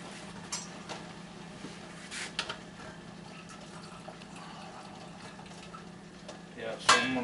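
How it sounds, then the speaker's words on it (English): Cooking liquid from a herb-roasted pork loin with onions is poured through a strainer, a soft, steady splash with a few clinks of metal, and someone talks over it. "I'm going to drain that liquid off into there"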